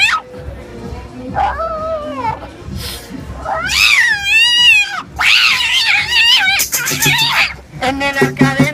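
A street performer's voice imitates a cat, giving several loud, close, drawn-out wavering meows that rise and fall, mixed in with his sung and spoken lines.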